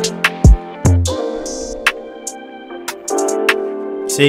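A sparse electronic beat of thumps and clicks with sustained tones, its top end muffled and dull by a filter cutting the highs, a few bright hits poking through.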